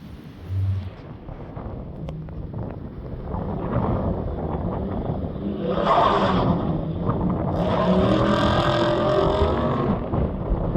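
A Dodge Dart project car pulls away outdoors near train tracks, its engine rumble swelling into a broad roar over heavy wind buffeting the microphone, with no talking.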